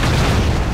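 A grenade blast in the side-scrolling action game Broforce, a dense, heavy boom that fills the brief moment with low rumble, loud and close with no talk.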